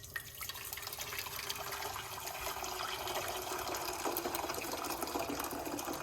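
Hot water pours steadily from a tap into a pot, a continuous splashing hiss that holds at an even level throughout.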